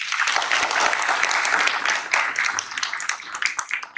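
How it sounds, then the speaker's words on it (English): A crowd at a charity event breaks into loud, lively applause for a woman just honored, with dense clapping that stays strong before thinning into scattered claps toward the end. "Let's give her another round of applause."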